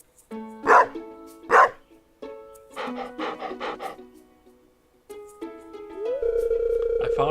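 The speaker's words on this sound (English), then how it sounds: "You see this dog here?" A cartoonish dog in Stardew Valley gives two short yelping barks followed by a quick series of bright chiptune-like yips, then game music chimes and a sustained tone rise as the scene continues.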